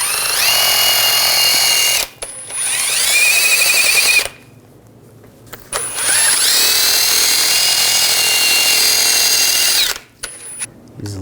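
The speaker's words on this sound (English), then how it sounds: "I'm going to use a wire brush. This is a little bit rusty." A power-driven wire brush scours rust from the threads of a steering rack on a 2007-2013 Chevrolet Silverado, a loud high whine in three long bursts with brief pauses between and small clatters at the end.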